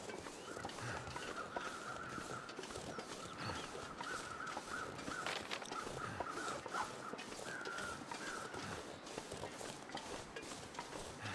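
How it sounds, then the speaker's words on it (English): Crows cawing in the snowy wilderness of the video game The Long Dark, a repeated harsh call from a distance, faint over steady wind and footsteps. "I saw some crows off in the distance here."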